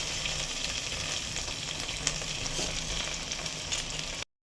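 Rice added to a pan of frying spices for bagara rice sizzles steadily and close, a dense crackling fry with faint stirring scrapes, ending abruptly.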